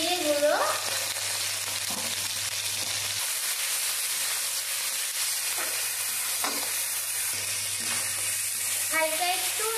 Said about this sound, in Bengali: হালকা একটু নেড়ে নিলাম।